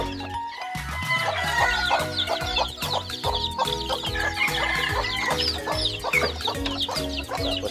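Several chickens cluck and squawk continuously, with a rooster crowing among them, close and loud, at a poultry pen.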